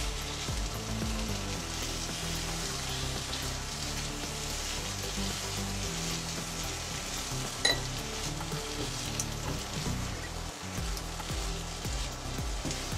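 Minced meat fries in a pan with soy sauce, sizzling steadily and loudly while a utensil stirs and scrapes, with an occasional clink of the pan and no talk.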